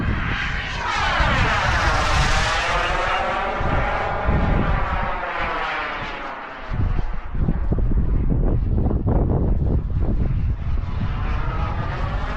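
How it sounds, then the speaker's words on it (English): A Global Jet Club Hummingbird RC jet powered by an ACEx-80 turbine screams past at full throttle in a high-speed pass, a loud sustained roar with a sweeping pitch shift as it approaches and recedes, buffeted by outdoor wind noise. "That was a full speed pass right there, full throttle"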